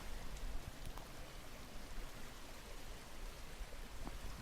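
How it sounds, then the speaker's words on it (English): A small stream babbles quietly, a soft, continuous watery rush with faint splashes, heard at a distance and without speech. "reminiscent of a babbling brook"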